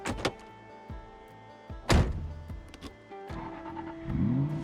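In the video game Project Zomboid, a car engine fueled with tainted gas cranks and turns over, with mechanical clicks and thumps before a low engine hum rises and holds near the end.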